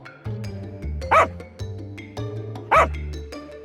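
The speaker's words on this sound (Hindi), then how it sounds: "बाजार में उस कुत्ते को देखकर रास्ते के कुत्ते उसके पीछे पड़ते हैं।" Street dogs bark in a market lane in an animated comedy, two sharp, loud barks rising over a steady low hum, with yips and whines between them.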